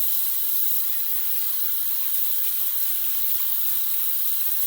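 Tap water runs steadily into a sink while a shaving brush is rinsed, making a continuous, even hiss with no pauses or voices.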